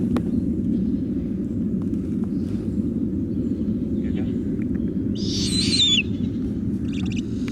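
A captive snowy owl gives a short, loud screeching call close by over a steady low rumbling background, with a few faint knocks and rustles before it.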